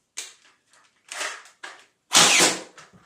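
A Nerf blaster loaded with a Super Drum 70 fires darts on full auto: short clustered bursts of clattering mechanical shots, close and fairly loud, ending in one longer, louder burst.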